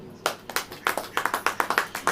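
A church congregation claps hands at a prayer meeting, a quick run of roughly a dozen sharp claps in a loose, slightly uneven rhythm.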